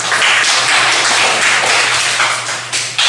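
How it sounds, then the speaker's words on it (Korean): A church congregation applauding during a Korean Sunday worship service, with a dense, even wash of many hands clapping that fills the room for a few seconds and then tapers slightly at the end. "우리 박수 해줄까요?"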